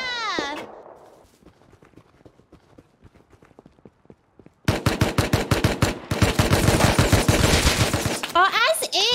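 Rapid bursts of automatic gunfire in the survival video game Rust, loud and close. A long tight volley comes after quieter scattered shots, and a few tonal sweeping effects sound at the start and end.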